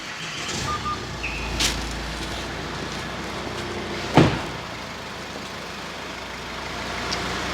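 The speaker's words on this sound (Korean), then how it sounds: "시동을 한번 걸어볼게요" A 2016 Renault Samsung QM6 2WD RE Signature SUV starts with a brief, sharp burst midway, then settles into a low, steady idle rumble. No voices are heard.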